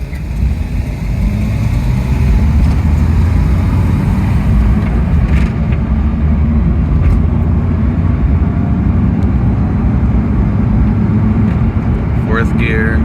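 A homebrew electric car on a road test drive, with steady low road and drivetrain rumble plus wind buffeting throughout, loud and continuous without a break.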